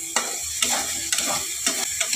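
Spice paste sizzles in a pan for a Bengali bhangor fish curry, scraped by a spoon in four or five regular strokes over a steady close frying hiss.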